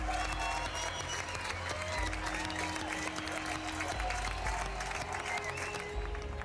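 A crowd gives continuous, dense applause and cheering for the finalists at the Nissan GT Academy UK 2015 final, loud and unbroken, with steady music tones running underneath.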